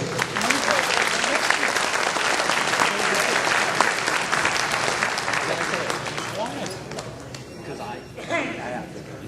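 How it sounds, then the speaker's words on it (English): A crowd at the 2016 professional wrestling Hall of Fame induction ceremony applauds loudly and steadily, with voices and cheers mixed in. The clapping fades slightly toward the end. "Give yourselves a round of applause for being here to help the Hall of Fame."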